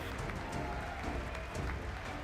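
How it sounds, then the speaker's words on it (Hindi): A congress hall fills with applause during the US president's address, a dense, continuous roar of clapping from a large audience throughout. "अमेरिकी राष्ट्रपति डोनाल्ड ट्रंप की जुबान से शब्द निकले कि हॉल तालियों से गूंज उठा।"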